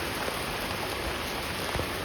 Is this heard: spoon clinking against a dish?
no